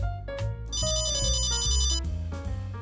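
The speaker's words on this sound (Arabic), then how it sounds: "تليفوني بيرن." Loud electronic ringtone from a mobile phone left in a kitchen, a bright looping melody with sustained high chimes over deeper notes, playing alone without any voices.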